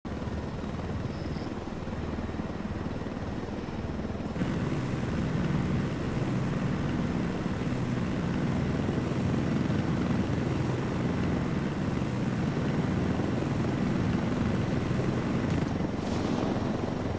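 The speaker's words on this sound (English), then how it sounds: "you can get into a helicopter and it moves real slow" Helicopter in the Ghost Recon video game flying with a steady, continuous rotor drone that thickens after the first few seconds and holds loud and close throughout, with no talk.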